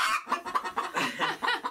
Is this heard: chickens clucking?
yes